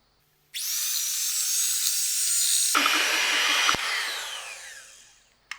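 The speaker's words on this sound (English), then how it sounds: "First things first, we're going to cream our butter and sugar." An electric mixer creams butter and sugar for cookie dough, a loud steady high whine that shifts pitch midway and winds down at the end.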